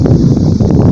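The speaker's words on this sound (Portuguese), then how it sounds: "Ó o vento, deu o que fazer para acender por causa do vento também" Strong wind buffets the microphone outdoors on a trail while a small campfire is being lit, a loud continuous low rumble with gusty fluctuations and no speech.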